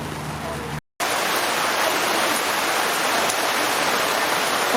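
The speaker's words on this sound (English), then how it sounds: "the rain has moved in. It's a lot harder than anticipated." Heavy rain pours steadily at an outdoor band event, a dense, loud hiss of downpour that cuts out briefly near the start and then returns, continuing evenly to the end.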